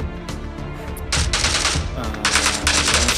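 Bursts of automatic gunfire in the battle-royale game PUBG New State, loud rapid clusters of shots in two main volleys over a steady background, with a voice talking underneath.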